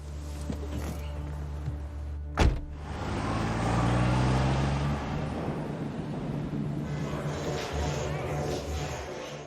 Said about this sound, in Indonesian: Ray langsung tancap gas ke sebuah bar